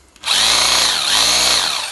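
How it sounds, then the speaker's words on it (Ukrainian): Mächtz MRH-1170S rotary hammer drill starts up and runs in hammer mode, a loud steady buzzing clatter that holds close and constant after a brief quiet start. "Давайте попробуємо, як він б'є."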